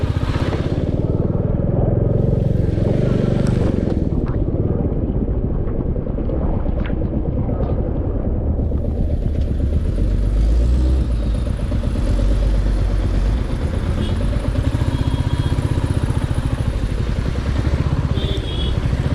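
A motorcycle engine drones steadily and loudly throughout, making an unusual noise that needs servicing, with wind buffeting the microphone and some clattering rattles.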